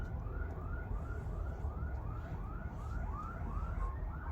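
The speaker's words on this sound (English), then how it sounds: "that's the ambulance going to save somebody." Ambulance siren wailing in repeated rising sweeps over steady traffic rumble on a city street on Detroit's east side, continuous and fairly distant, with no talk.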